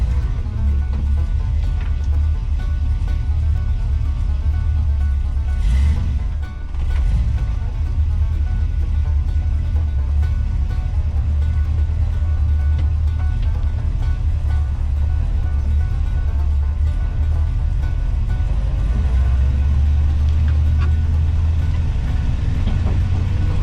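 A square body Chevrolet dually truck engine idles with a steady low rumble, close and continuous, with one brief dip partway through and no talk.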